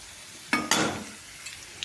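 Onions and tempering frying in a pan for upma, two sharp sizzling bursts as ingredients hit hot oil around the half-second mark, then a fading crackle with a couple of faint clinks.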